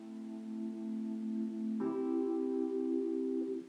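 A short music excerpt edited in Reaper: a sustained harmonic chord that shifts to a brighter chord partway through, holding steady before cutting off, with no talking.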